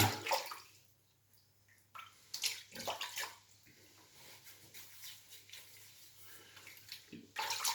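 Water runs from a tap as a razor is wetted during a wet shave with a Micro Touch blade, splashing in bursts that start and stop near the sink, with quieter gaps between.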